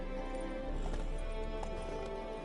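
A horse's hooves clip-clop in a steady rhythmic gait in The Witcher 3 video game, close and continuous over a low ambient game backdrop.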